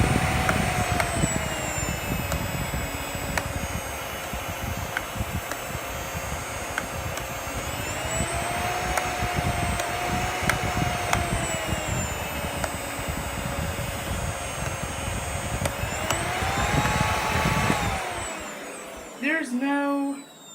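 A Miele S5 Gemini vacuum cleaner runs with a loud, steady whining motor roar, its pitch shifting slightly mid-run, then spins down near the end with a few clicks and handling knocks.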